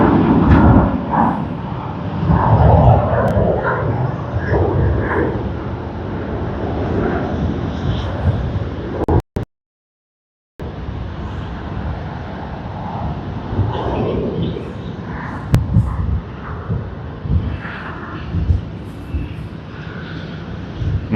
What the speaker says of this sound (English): Malaysia Airlines Airbus A330-900.